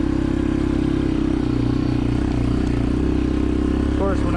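A 1996 Yamaha Kodiak 400 4x4 ATV engine drones steadily and loudly while climbing a steep hill, a continuous mid-pitched rumble with no pauses.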